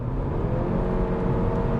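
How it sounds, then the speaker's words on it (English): A 2021 Honda Civic Sport Hatchback with a CVT accelerates out of a corner, its engine giving a loud, steady low drone and whir throughout the short stretch, with no voices heard. "then I'm going to accelerate out of the corner."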